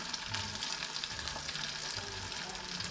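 Onions fry in browned butter in a pan, giving a dense, continuous crackling sizzle that holds at an even level throughout at a modest volume, with no voices.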